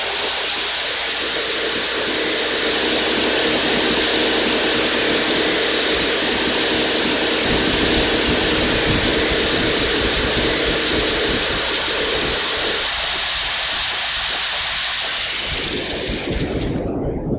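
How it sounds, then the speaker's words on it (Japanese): Soviet Venera 14 probe's drill arm boring into Venus soil, a loud, steady roaring whir with a hissing edge that runs unbroken for most of the stretch and then cuts off abruptly at the end. "この後に金星の土壌を採取するため、掘削アームのドリルで地面に穴を開けていきます。"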